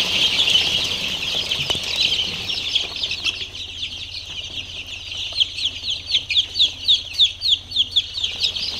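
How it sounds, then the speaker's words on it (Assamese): High, rapid peeps of silkie chicken chicks, thin and chirpy, first in a dense chorus, then a rhythmic run of repeated cheeps up close. "এইটো চিল্কি মুৰ্গীৰ পোৱালি হয়।"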